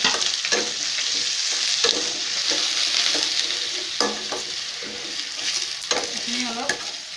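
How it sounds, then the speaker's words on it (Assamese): Chopped onions and bay leaf fry in hot oil for an Assamese mutton dish, a steady loud sizzle with occasional scraping stirs and small crackles throughout. "তেল গৰম হ'ল। মই এয়া পিচি থোৱা পিঁয়াজখিনি ইয়াত দি দিছোঁ।"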